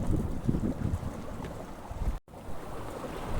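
Steady wind of about 10 knots, gusting to 12, across a sailboat at sea off Brittany near the Isle of Bréhat, with rushing noise and water washing below, loud and close throughout.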